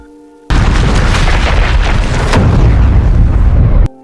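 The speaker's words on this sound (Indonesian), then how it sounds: "setelah Dante sedikit lebih jauh, tempat itu pun meledak." A massive film explosion bursts in abruptly with a deep, rumbling roar, staying loud and heavy for over three seconds before cutting off sharply into quiet.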